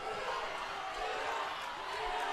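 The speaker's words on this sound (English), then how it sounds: "And listen to this crowd now." A girls' high school basketball crowd in North County versus Fredericktown, a steady distant roar of cheering and shouting in the gym late in a close game, fairly faint.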